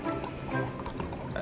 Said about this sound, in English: Oh, now I actually have to pour the wine.